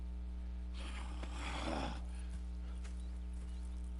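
Horse sounds, a snort or whinny-like burst of noise over a steady low hum, brief and moderately close, with no talking.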